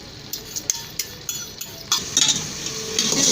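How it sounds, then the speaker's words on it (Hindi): A spoon scrapes and clinks against a pot while whisked yogurt is stirred into a chicken masala with green capsicum, with sharp periodic knocks, then a wetter sizzling stir toward the end. "अच्छे से मिक्स कर लेते हैं दही को"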